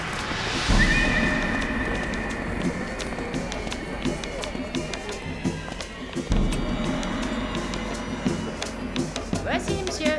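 Horses neigh, with one loud whinny early on, amid busy stable commotion, hoof movement and background voices.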